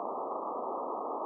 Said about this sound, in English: This sends a 1K tone